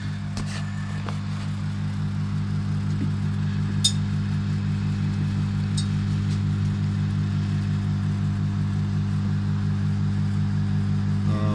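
A microwave oven runs with a steady, even hum and a deep drone that holds throughout, broken by a few faint clicks and crackles, with no voices.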